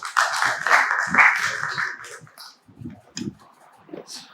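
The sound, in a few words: audience applause welcoming poet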